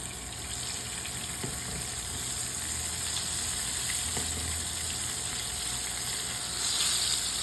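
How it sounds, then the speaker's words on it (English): Oil sizzles steadily in a pan as a fish fillet fries in extra virgin olive oil, a continuous crackling hiss with a few soft clinks, growing slightly louder toward the end. "Add the extra virgin olive oil in the fry pan for frying the fish."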